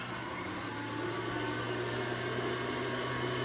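Juicer machine running continuously with a steady motor whir, close and moderately quiet, with no one talking.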